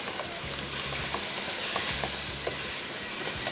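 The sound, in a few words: beef mince frying and sizzling in a pan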